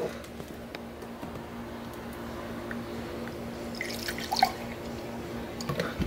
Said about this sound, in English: we're gonna pour in a little milk